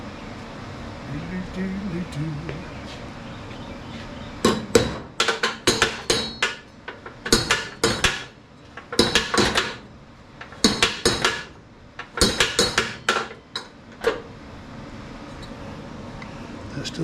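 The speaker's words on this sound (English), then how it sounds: "Grab me a hammer." A hammer strikes the spindle of a Craftsman DYT4000 riding mower damaged by hitting a stump: a run of sharp metallic clanks in irregular bursts, loud and close, between quieter stretches.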